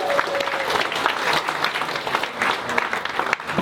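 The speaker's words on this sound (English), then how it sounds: "Give them a big round of applause." A studio audience applauds steadily for a couple married 18 months, dense clapping holding at an even loudness throughout, with a few voices faintly mixed in.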